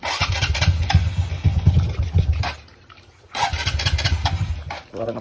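Honda RS125 FI motorcycle engine fitted with a 26mm Kehen carburetor runs nearby with a steady, throbbing idle, briefly dropping off mid-clip before picking back up; no talking.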